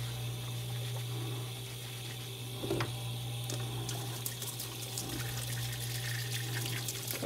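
Dishes being hand washed, dipped and scrubbed in a sink of water, giving steady splashing and sloshing with brief louder swishes against a constant low hum, no one talking.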